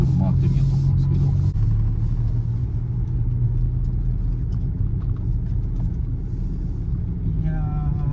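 Steady tire and road rumble inside a Suzuki Alto Works HA36S after sound-deadening work, a continuous low drone throughout as the car circles, loud and close with no break.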